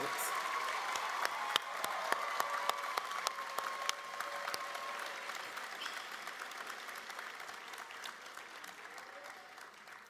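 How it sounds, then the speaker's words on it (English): A crowd at a 2024 University at Buffalo commencement ceremony applauds steadily, a dense patter of clapping that holds for several seconds and slowly tapers off. "join me and a round of applause for the 2024 UB ALANA graduates"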